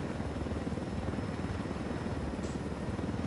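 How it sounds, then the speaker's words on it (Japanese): A helicopter in the video game Ghost Recon Wildlands drones with a steady, even rotor and engine wash, moderately loud and unbroken throughout, with no speech over it. "ヘリどっか最寄りに止めとくから"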